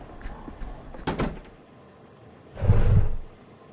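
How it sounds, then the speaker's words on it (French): A door closes in the video game Intrus 2: a couple of sharp knocks and clatters, followed by a muffled, heavier thud of the door shutting at moderate distance. "Je crois que j'ai entendu fermer la porte."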